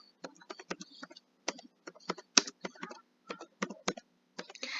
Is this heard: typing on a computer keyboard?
yes